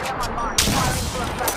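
Gunfire in Apex Legends, a quick fusillade of sharp shots with one louder crack partway through, dense and close over game ambience.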